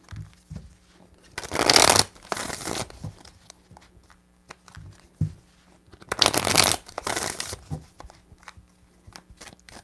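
Tarot cards are shuffled by hand in two distinct bursts of crisp riffling, close and fairly loud, with quieter card handling and small taps between them.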